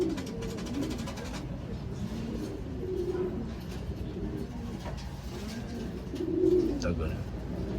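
Racing pigeons coo in soft, low repeated bursts during loading for a derby race, with birds close by, over steady background noise and some faint chirps.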